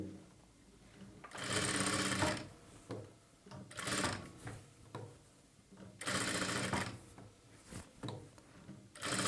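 A sewing machine stitches piping onto a blouse in several loud bursts of rapid whirring, each lasting a second or two, separated by short pauses with light handling clicks.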